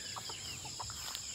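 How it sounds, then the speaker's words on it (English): Young chicks chirping outdoors just after rain, a scatter of short high peeps over a steady wet background hiss, fairly faint and with no talk. "they're in there chirping, so hopefully they don't get sick."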